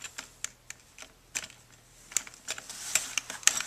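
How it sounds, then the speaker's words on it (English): Close, crisp ticking and small metallic clicks in an irregular series as an Allen wrench turns and tightens a set screw on a DORMA M9953 lever handle, with no talk. "I'll take my Allen wrench, and I'll tighten that back down."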